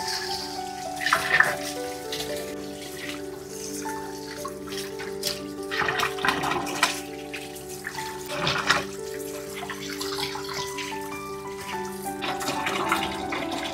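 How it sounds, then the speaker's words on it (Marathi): Chivni fish being washed in water for a Gabol-style curry and fry, with splashing, trickling water and handling sounds running steadily throughout, close up and moderately loud. "आता ते एकदम मस्त धुवून घेऊ आपण."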